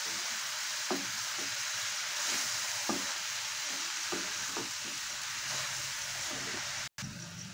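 Grated carrots with a pinch of salt sizzle steadily in a hot pan while a spatula scrapes through them, giving soft repeated knocks every second or so under a constant frying hiss.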